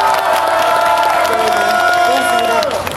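Crowd cheers and claps steadily throughout at a military band concert during the Hwacheon Tomato Festival, loud and dense, with shouts rising over the noise.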